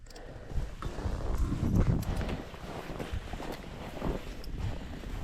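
A horse moves about in the snow during a blizzard, with soft, irregular hoof thuds and shuffling nearby, heard over steady wind noise.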